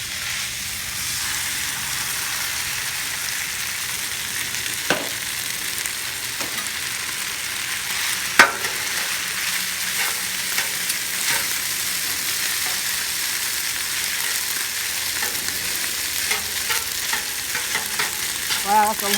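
Rice fries on a Blackstone griddle with a loud, steady sizzle, broken by occasional sharp metal scrapes and clacks of a spatula stirring it, close by with no talk.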